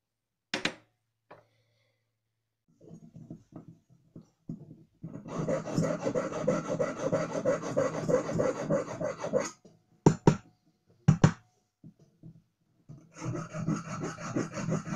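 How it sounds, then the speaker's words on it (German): A hand file rasps against a gold wedding ring being shaped, sustained strokes in a long steady stretch, then brief scrapes and a final run of filing, close and clear with no talk. "Die genaue Form wird mit der Feile ausgearbeitet."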